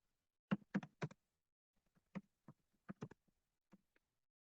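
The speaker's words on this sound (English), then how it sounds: "Now testing for the Hindi model, I type in the sentence." Computer keyboard being typed on in a quiet room: sparse, crisp key clicks arriving in small irregular bursts and single taps, close and fairly soft, with no voices.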